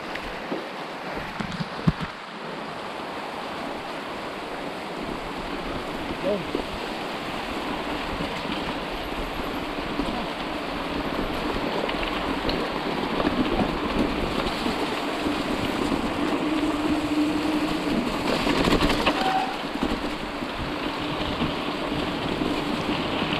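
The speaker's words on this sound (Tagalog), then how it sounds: "Ayun na, lakas na ulan." Steady, dense hiss of heavy rain pouring down on a mountain bike trail in Phuket, Thailand, constant and enveloping with no breaks, a few faint knocks near the start and no talking.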